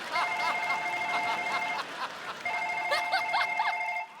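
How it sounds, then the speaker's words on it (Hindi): A mobile phone ringtone plays in two bursts of a repeating electronic melody with a short gap between them, moderately loud on a TV comedy show set. "और हमारा फोन वाइब्रेशन पे है।"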